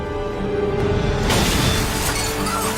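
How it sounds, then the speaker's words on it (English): An explosion bursts into breaking glass, shards crashing and scattering over a dense, rumbling roar that fills the whole moment. "An explosion shatters the moment of joy."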